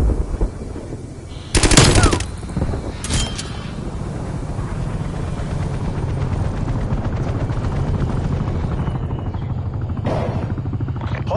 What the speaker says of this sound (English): Non-attack helicopter inbound.